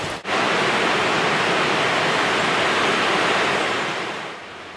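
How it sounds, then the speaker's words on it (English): A waterfall in the North Carolina High Country roars close and loud as a dense, continuous rush of falling water, steady throughout with no voices. "Head down to the bottom of the falls past a gushing spring house."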